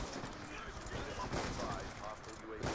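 Dense automatic LMG fire from a first-person shooter game rattles steadily across the whole stretch, loud and continuous, with game ambience and other noise mixed in.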